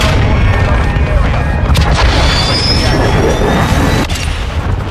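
Airstrike detonation in a military combat video game, a dense, loud rumbling blast with sustained low roar and scattered debris crackle filling the scene, a sharper thud near the end.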